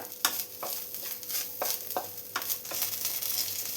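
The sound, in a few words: frying grated coconut in a pan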